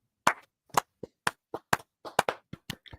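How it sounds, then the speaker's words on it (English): Quiet golf clap from a few hands: about a dozen soft, crisp claps in an uneven patter over three seconds, close and isolated against silence. "We have to golf clap because we don't want to pop"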